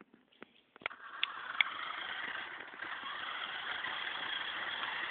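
Small electric motor of an RC car whirring steadily after a few clicks, running continuously at close range while a prototype trailer is tested behind it, with no talk.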